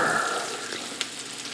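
Onions frying in butter in a pan, a soft close sizzle that fades slightly over a brief moment, with one small pop.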